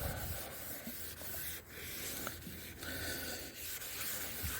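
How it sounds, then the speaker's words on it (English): Scotch-Brite pad scrubbing mold off the paint of a 1984 Chevy C10 truck, a steady close rasping rub with brief pauses between strokes. "Just lightly going over it with a piece of Scotch-Brite."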